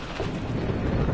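Thunderstorm at sea in a PS4 video game, a loud, continuous rumble of thunder over heavy rain and wind, filling the short stretch without pause.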